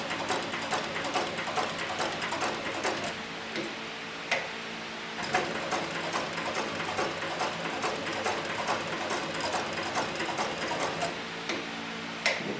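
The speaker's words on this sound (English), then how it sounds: "I'm going to just go ahead and increase my stitch length a little bit" An arm sewing machine stitching leather, a close and steady run of rapid mechanical ticks that pauses briefly a few times and then resumes at the same even pace.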